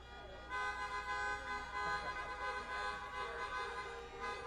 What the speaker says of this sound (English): You got that horn honking good.